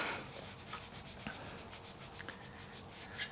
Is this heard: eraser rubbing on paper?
yes